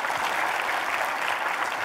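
Sustained audience applause closing a keynote presentation at an advertising conference, a thick, even wash of many hands clapping at a steady level from start to finish, with no speech.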